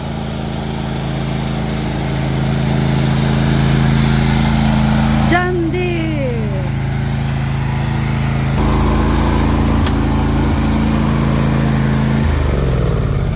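A riding lawn mower tractor engine runs steadily, a constant droning idle that rises slightly partway through, with a brief high squeal and faint background voices.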